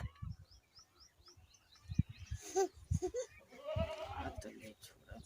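A village goat bleating in a few short nasal calls near the middle, close by, mixed in with people talking in Hindi and faint birdsong in the background.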